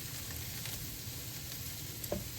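Broccoli quarters and other vegetables sizzle in a frying pan for rice, tofu and veggies with peanut sauce, a steady close crackle with a brief stir near the end.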